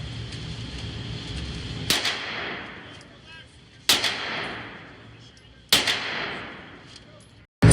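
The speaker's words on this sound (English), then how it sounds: "Alright, what you shooting now, folks? HK VP9." Three loud, sharp pistol shots from an HK VP9 at a gun range, evenly spaced about two seconds apart, each crack ringing out and decaying into the range's background hiss.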